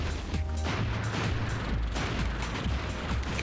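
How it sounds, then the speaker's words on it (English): A homing gun in the N64 game Buck Bumble fires in rapid, dense bursts, loud repeated blasts and crackles layered over a low rumbling drone. "Not a very strong gun, apparently."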